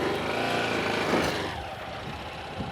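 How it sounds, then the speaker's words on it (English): A motorbike engine runs at light throttle as the bike is pushed up a loading ramp onto a ute, a close steady rumble that eases off partway through. "let the clutch out slowly with a little bit of throttle to let the engine help you push the bike"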